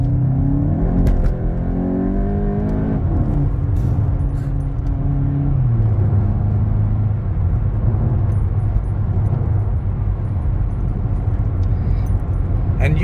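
Volkswagen Golf GTI MK8 on the road, a steady loud engine drone and tyre rumble from inside the cabin with the pitch rising and shifting through gears; any exhaust pops are not distinctly audible.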